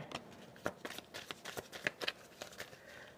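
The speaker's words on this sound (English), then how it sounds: "Okay, I'm going to shuffle one more time." A tarot deck is shuffled in quick, uneven bursts of papery riffles and slaps, close by and fairly quiet.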